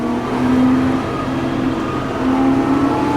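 Steady road traffic rolling past beside a wheat field, a continuous loud whir and engine drone from several vehicles with shifting tones, with no talk.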